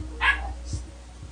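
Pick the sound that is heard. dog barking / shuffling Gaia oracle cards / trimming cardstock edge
dog barking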